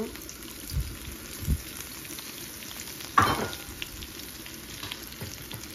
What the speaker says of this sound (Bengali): এই যে পেঁয়াজগুলি ভেজে নিব।